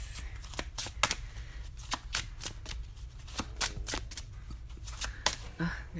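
Playing cards being shuffled, a steady run of quick crisp riffling clicks with brief bursts, fairly close, with no talking.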